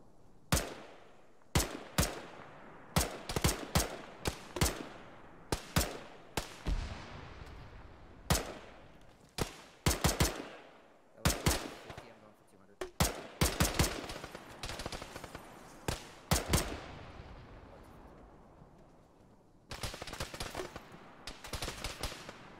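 Gunfire in the ArmA military video game during a ShackTac squad session: sharp single shots and short bursts crack irregularly throughout, some loud and near, others quieter, with a sustained automatic burst near the end, no talk.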